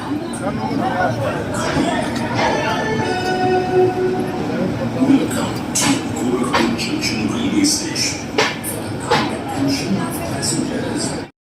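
A Garib Rath passenger train pulls into Gorakhpur Junction, heard as a close, steady rumble of rolling coaches with clanks, squeals and brief tonal squeaks, with crowd chatter around it.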